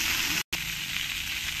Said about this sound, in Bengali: আর গ্যাসটা একটু কমিয়ে দিয়েই আমি ভেজে নেব